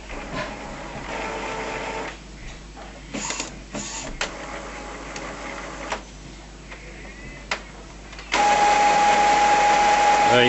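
An Epson BX300F inkjet printer charging ink from a continuous ink supply system, with whirring motor runs, clicks and pauses, ending in a loud steady mechanical drone.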